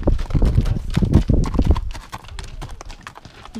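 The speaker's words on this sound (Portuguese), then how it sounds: "Os cavalos sofrem, assim como sofrem em muitos lugares com o charrete" Horse hooves clip-clop on pavement as carriages for tourists roll through Tilcara, Argentina, a steady loud clatter of beats with faint voices in the background.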